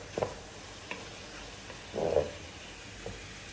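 Minced meat with onion and garlic gets stirred in a pan, giving a few soft scraping strokes over a faint, steady sizzle, with quiet gaps between movements.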